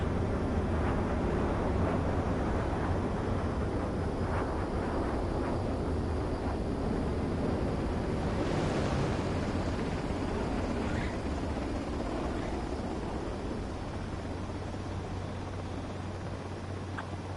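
A video game aircraft making its approach to a runway for landing, a constant loud roar of engine and rushing wind that swells briefly midway before settling into an even drone, with no voices.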